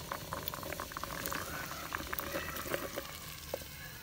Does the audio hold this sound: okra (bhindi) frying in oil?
yes